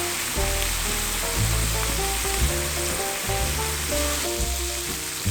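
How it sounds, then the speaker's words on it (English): Kimchi frying in hot bacon fat gives a steady, dense sizzle and crackle, close and loud, with faint background music underneath. "We're gonna cook the kimchi in the bacon fat for extra flavor."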